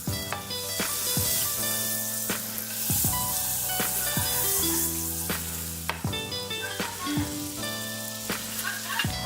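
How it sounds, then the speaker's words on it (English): Slices of bread frying in butter for Indian bread pudding (shahi tukde) give off a steady, close sizzle that runs throughout, with sustained musical tones layered over it. "fry your bread up in some butter real quick"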